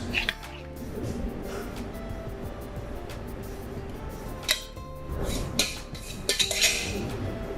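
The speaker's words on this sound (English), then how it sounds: "so we'll stir this through, make sure it's all nicely incorporated" Eggs and Parmesan being stirred together in a bowl for a frittata, with repeated clinks and scrapes of a utensil against the dish over a low background hum.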